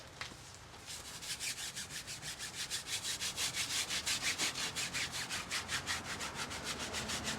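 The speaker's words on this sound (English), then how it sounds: "I'm going to start scrubbing the tires." Wheel cleaner foam on car tires being scrubbed with a brush, a steady rhythmic back-and-forth rubbing that starts after a quiet moment and keeps up close and fairly loud, with no talking.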